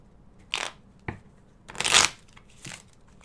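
Tarot cards shuffled by hand in a few quick separate bursts, riffling and crisp, close up and alone with no talking.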